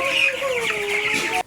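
Chickens cluck close by on a poultry farm, a short run of loud overlapping clucks and bird calls that stops abruptly after about a second and a half.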